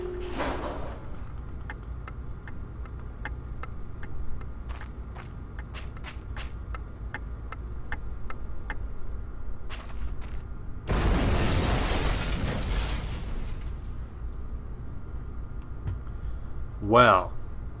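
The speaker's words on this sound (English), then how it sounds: "There's a bomb in it." A ticking bomb in the video game Syberia: regular faint ticks repeat for several seconds, then a loud, broad explosion bursts and fades, followed by a short sharp sound near the end.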